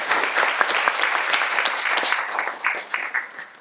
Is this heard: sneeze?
no